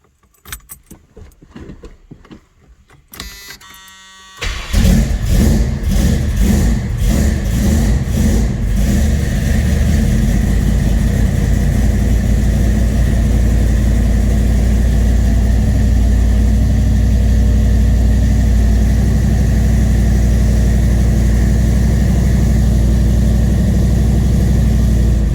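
A 1979 Chevrolet Malibu, an old high school car low on fuel, cranks after a jangle of keys, fires up, and settles into a loud, steady rumbling run close by, with no talking.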